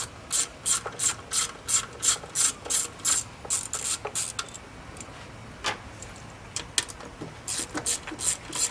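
Ratchet with a 7 mm socket clicking on the coil packs of a Ford Crown Victoria, quick bursts of sharp close ticking in repeated strokes, pausing and resuming.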